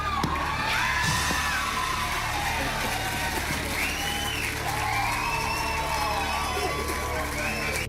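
A TV studio audience screams, whoops and cheers in a loud, continuous roar with rising yells. A voice talks over the crowd throughout.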